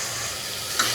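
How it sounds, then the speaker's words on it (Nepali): Goat meat frying with turmeric in a pan over a low gas flame, giving a close, steady sizzle and hiss with a brief scrape of stirring near the end, heard alone without speech. "बेसार राखिसकेपछि राख्छु मासु। यो सँगसँगै भुट्नुपर्छ।"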